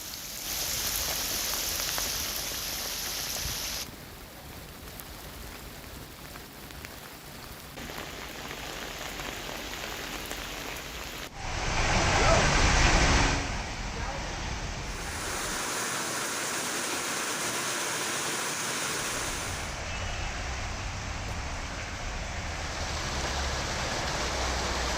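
Heavy monsoon rain and swollen, rushing water in Uttarakhand under a red alert: a loud, steady hiss and roar that shifts abruptly in level and tone between scenes, with no voices.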